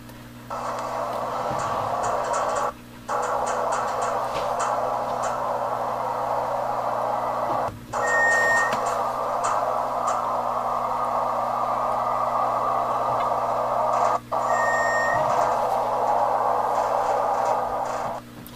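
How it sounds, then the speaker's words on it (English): An elevator runs in a shopping mall with a steady low mechanical hum and a constant whooshing drone inside the car. The noise breaks off briefly a few times, and soft faint tones and ticks sound now and then. "This is a very nice elevator."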